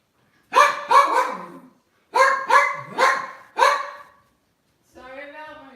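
A dog barking indoors in two loud close bursts of sharp barks, three then three, followed by a short whine.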